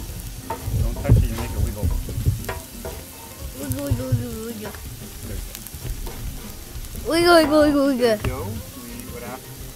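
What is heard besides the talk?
garlic sautéing in a pan for paella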